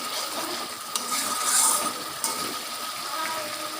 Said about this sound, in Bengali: একটুখানি রসুন আছে, কাঁচা লঙ্কা পরিমাণ মতো, আর অল্প একটু সামান্য একটুখানি আদা, ব্যাস একটু ভালো করে কষিয়ে দেবো